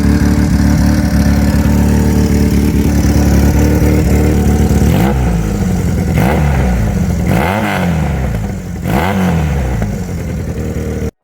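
BMW F450GS motorcycle with a 135-degree parallel-twin engine, running loud and close: a rumbling idle, then several sharp revs rising and falling in quick succession.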